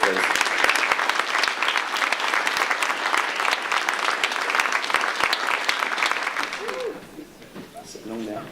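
Audience applause at a school certificate of achievement ceremony fills the hall, loud and continuous with sharp individual claps, then fades out near the end as a voice begins speaking.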